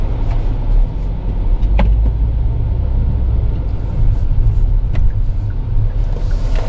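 A 2025 Hyundai Kona N-Line S AWD pulls away, heard from inside as a steady low engine and road rumble with a few faint clicks and thumps, no talking.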